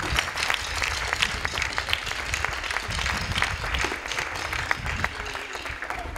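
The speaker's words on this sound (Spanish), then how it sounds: "en Joan Carles, en nostre súper Joan Carles, un fort aplaudiment per ell." Sustained audience applause at an end-of-year concert of a municipal music school, a dense, steady wash of many hands clapping throughout with no voices standing out.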